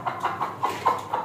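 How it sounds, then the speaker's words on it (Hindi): Hens and a rooster on a farm, clucking in a short series of soft, evenly spaced calls at moderate distance, with no talking. "गंजी मुर्गी नीचे भाग गई है तीतरों के साथ खड़ी होकर पंगे ले रही है"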